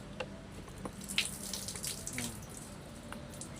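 Tap water running steadily into a sink while a toothbrush is rinsed, a soft continuous splash with faint clinks, no talking.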